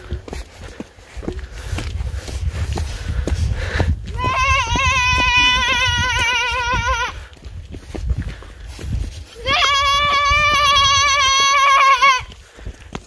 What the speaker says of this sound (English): It's the mountain goat.